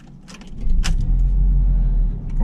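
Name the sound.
hybrid sports car engine starting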